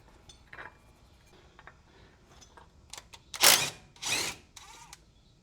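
A pneumatic air gun removes a steering stabilizer bolt on an 80 Series Toyota Land Cruiser in two loud, close whirring bursts after faint clinks and shuffling.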